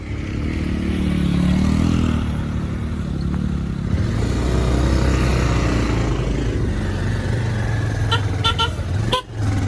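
A motorbike engine rumbles steadily on a rural road, low and close throughout, with a few sharp horn toots and some clatter near the end.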